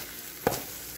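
Coconut and green papaya sweet being stirred in a pan, two brief scraping strokes standing out against a faint steady background, with no talking.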